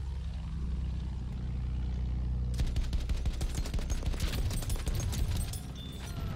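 Attack plane bombing run in Battlefield 1, starting with a steady droning engine and then a rapid burst of loud gunfire and explosions that continues for several seconds before fading slightly.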